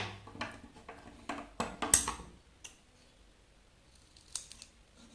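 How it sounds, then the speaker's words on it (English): Scissors cutting through cardboard up close: a few crisp, crunching snips in quick succession, then a pause and one more cut, with no talking. "we will measure the length of that piece and cut it accordingly"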